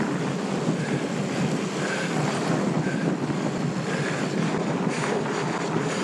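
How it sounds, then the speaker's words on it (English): Wind roars against the microphone during a mountain bike test ride on a Trek Full Stache 8. The loud, steady rush lasts the whole stretch, with no voices. "Ooh, it's windy."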